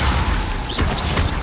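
Glacius freezing spell cast in Hogwarts Legacy: a short magical burst with a crackling, mechanical clatter around the middle, over steady low game rumble.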